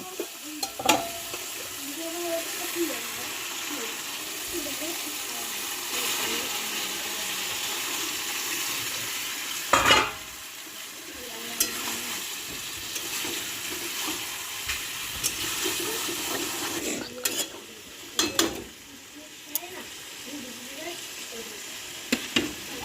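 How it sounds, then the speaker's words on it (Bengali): Chicken pieces hiss and sizzle in oil with a cooked-down spice paste, a steady frying crackle with repeated scraping stir strokes and occasional clanks of the utensil, no talking. "আমার মশলাটা কষানো হয়ে গেছে, এবার আমি দিয়ে দেবো মাংস।"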